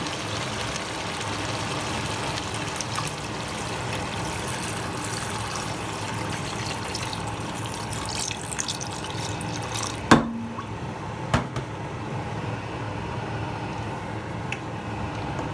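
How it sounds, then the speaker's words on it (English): Continuous splashing, pouring water into a cooking pot of Jamaican curry goat for about ten seconds, then it stops, leaving a quieter background with a couple of sharp clinks. "now I'm gonna add some water."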